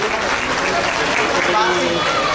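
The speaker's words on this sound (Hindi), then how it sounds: "उनके लिए भी एक जोरदार ताली" A crowd applauds loudly and steadily for a Hindu religious leader at a public gathering, a dense wash of clapping filling the whole moment without pause.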